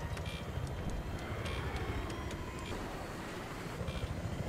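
An Mi-28 attack helicopter in Battlefield 3 on Wake Island, a steady rumbling engine and rotor drone with scattered sharp clicks and distant gunfire bursts, continuous and fairly loud without speech.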